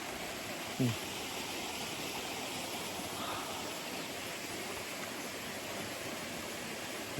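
Steady broadband rush of flowing water, like a waterfall, continuous and even throughout, with one brief low knock near the start.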